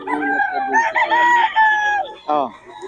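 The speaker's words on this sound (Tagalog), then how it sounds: "Daming manok." Roosters and chickens at a market crow loudly and close by in several drawn-out, overlapping cock-a-doodle calls, followed by a short clucking crow near the end.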